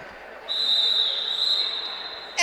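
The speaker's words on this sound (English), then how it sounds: "we are just about to get started here as the whistle blows" A referee's whistle at a roller derby game sounds as one long, loud, steady blast that holds for about two seconds before it cuts off, set over a murmuring arena crowd.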